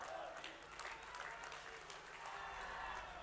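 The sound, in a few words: crowd applauding the chief minister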